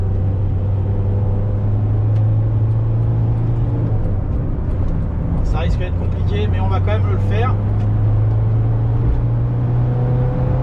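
A 1998 Renault Kangoo RNC with a 1.9L diesel engine drones loudly and steadily as it pulls up through the revs on the road, its low hum continuous beneath someone talking.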